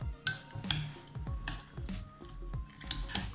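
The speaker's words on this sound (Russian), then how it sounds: "Все хорошо перемешиваю." Salad of pineapple and meat being mixed in a bowl, with soft squishing and repeated clinks of a utensil against the dish in an uneven rhythm, close by with no voices.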